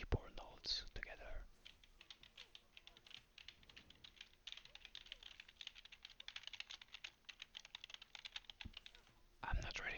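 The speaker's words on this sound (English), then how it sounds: "we can listen to the beautiful sound of my keyboard notes together" Rapid, continuous typing on a computer keyboard, close and fairly quiet, with dense irregular key clicks filling the middle stretch and brief whispery voice bursts at the start and end.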